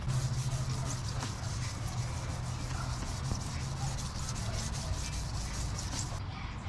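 Wet sanding of a scuffed car headlight lens with 3000 grit paper: a steady, close, continuous rubbing scrape with a fast back-and-forth texture that runs without a break.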